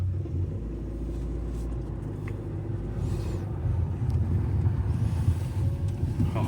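A Toyota AW11 MR2 that sat abandoned with 46k miles idles steadily after starting, a continuous low rumble up close that swells slightly toward the end, with no talking over it.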